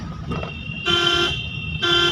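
Two short car horn toots sound close by from a car on a driving lesson, under steady road and engine noise.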